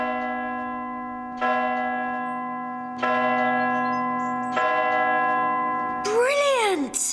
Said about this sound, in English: This rope leads up to the bells, and I give it a good tug to ring them